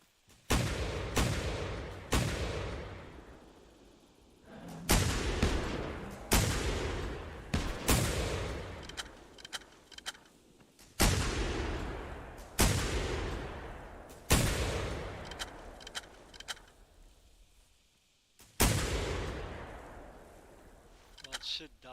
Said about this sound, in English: Too much shooting.